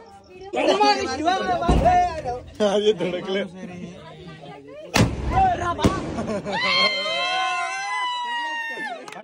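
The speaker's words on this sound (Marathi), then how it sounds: "स्काय शॉट आहे जे की गाडीच्या डिलिव्हरीसाठी आणले होते, बट आता ती युज करून घेऊ" Sky shot fireworks set off at night from a gallery during a birthday celebration, several sharp loud bangs and crackles breaking through excited chatter and shouting from a nearby group.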